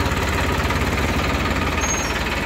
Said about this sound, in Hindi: ट्रैक्टर स्टार्ट हो गया है